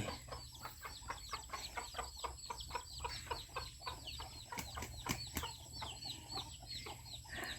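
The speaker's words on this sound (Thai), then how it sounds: "ไก่บ้านทั้งนั้นครับนี่" Several domestic chickens cluck in rapid, busy bursts, with a few sharper squawks and a faint steady hum in the background.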